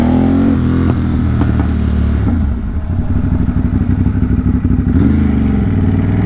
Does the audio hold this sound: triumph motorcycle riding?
yes